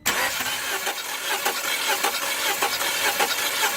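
A Mini Cooper engine cranks and tries to start during a compression test for a P0300/P0302 misfire, a loud, steady, noisy churning with rhythmic pulses throughout.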